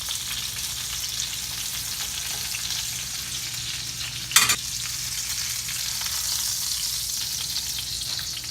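Pork cutlets sizzle steadily in a hot frying pan, a continuous bright frying hiss with one brief louder crackle midway, no voices.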